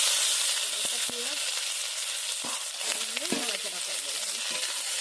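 Mustard seeds, green chili and onion hit hot oil in a kadai, giving a loud steady sizzle and crackle with scattered pops and scraping stirs throughout.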